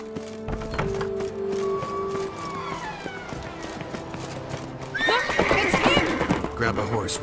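A horse in The Witcher 3 gives a loud whinny while hooves clip-clop, mixed with game music and sound effects. Voices speak over it.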